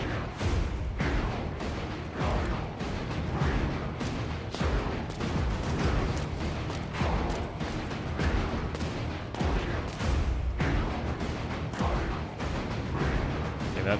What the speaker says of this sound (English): but a nade would be fantastic